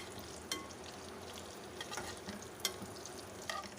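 Green chillies fry in oil over a high flame, giving a steady, close crackling sizzle with occasional sharp spatters and light stirring scrapes throughout.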